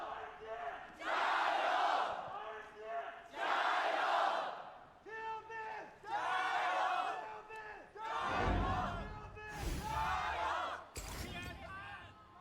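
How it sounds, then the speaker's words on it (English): Stadium crowd at a League of Legends semi-final match in a home arena, roaring in loud surging waves with chants and cheers swelling and fading, punctuated by heavy low booming thuds, with voices shouting over the din. "Already, you can hear the crowd."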